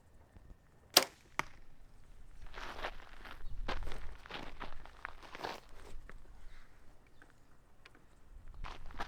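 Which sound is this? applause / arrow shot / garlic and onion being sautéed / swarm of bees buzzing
arrow shot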